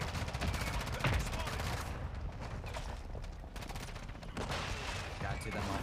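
A mortar strike and gunfire in Call of Duty Modern Warfare II: dense, continuous rattling battle noise with overlapping shots and muffled impacts, steady and loud throughout, with voices mixed in.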